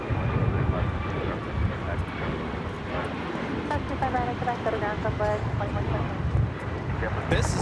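A United Airlines Boeing 737 MAX 9 jet takes off at LAX, its engines a steady rumbling roar heard from a distance, with people talking nearby.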